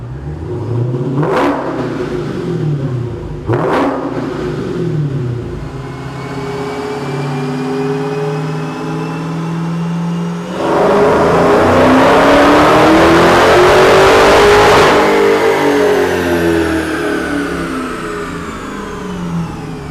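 A Dodge Challenger Hellcat on a chassis dyno roars loud and close, with two sharp throttle blips at the start, then a sustained climbing wide-open run that swells to full volume before easing off.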